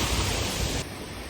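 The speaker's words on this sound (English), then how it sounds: "You can see there, look, under the sill, how much more water's coming out there." Water rushes through an opened ground paddle of a canal lock on the Erewash canal, a loud broadband roar that abruptly drops to a slightly quieter, steady rush partway through, with no voices.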